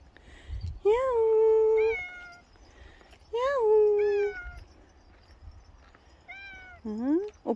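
A dog-like pet cat meows nearby in three loud, drawn-out calls with short gaps, each bending in pitch, the last rising sharply, over quiet background.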